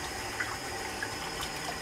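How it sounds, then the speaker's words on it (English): Cold water from a tap runs steadily into a bathroom sink, a continuous close splashing hiss with no talk over it. "we'll start with some cold water in the sink"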